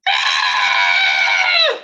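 A human voice imitates a dying leech's scream: one loud, sustained, strained shriek held at an even pitch for nearly two seconds, then bending downward and cutting off abruptly.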